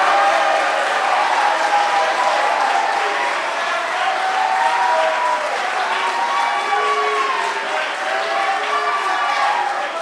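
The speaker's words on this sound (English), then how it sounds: "Please give a round of applause for Tage Robinson." An audience at a school awards chapel gives sustained applause, a dense, even wash of clapping that holds for the whole stretch without a break.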